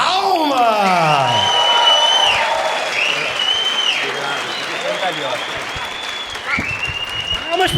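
A live stand-up comedy audience bursts into loud, sustained applause for the comedian Saulo, with whoops and whistles rising over the dense clapping before it eases slightly and swells again.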